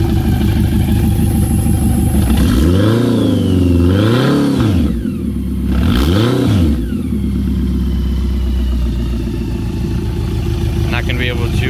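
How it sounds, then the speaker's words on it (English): A 1985 BMW K100 motorcycle with an aftermarket exhaust idles and revs up and down several times, its deep throaty exhaust loud and close, with a voice talking over it. "We'll give you a little sound of what it sounds like as well. Definitely has a bit more of a throaty exhaust."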